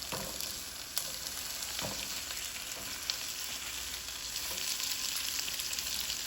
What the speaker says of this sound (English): fried the onion really good, then went in with the rest of my veggies